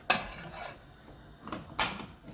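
A pan holding salmon set down on a stove, giving a sharp metallic clank followed by two more knocks and scrapes, close by and without talk.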